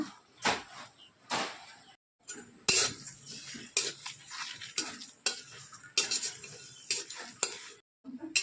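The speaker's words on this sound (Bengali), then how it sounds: "এই যে উপকরণগুলোকে নিয়েছি এগুলোকে এইবারে শুকনো কড়াই একটু নেড়ে চেড়ে নেব" Spices for a karamcha pickle are stirred in a dry wok, producing repeated scraping and clinking strokes of a utensil against the metal, close and rhythmic with short pauses between passes.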